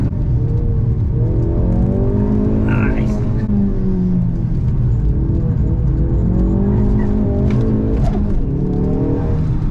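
Loud four-wheel-drive car drifting on a hill climb, its engine whining and revving continuously while the tires squeal intermittently over a constant roar.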